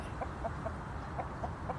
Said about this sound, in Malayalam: അസീൽ ഇനത്തിൽപ്പെട്ട ഒരു പൂവൻ കോഴിയാണ് നമ്മുടെ കൂട്ടിലേക്ക് എത്തിയിരിക്കുന്നത്